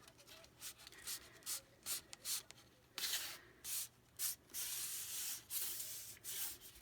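Paper gussets, 2½ inches wide, are pinched and creased while a folio hinge binding is assembled, giving soft, dry rubbing and scraping strokes in short repeated bursts, close and quiet with no talk.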